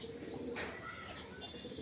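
Pigeons in a home loft coo softly at close range, a low continuous murmur with a brief brighter chirp partway through, no voices.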